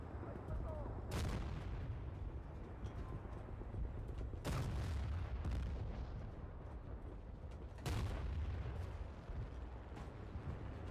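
Battlefield 1943 gunshots crack out as three loud, widely spaced blasts over a steady rumble of battle noise, each shot ringing briefly before fading.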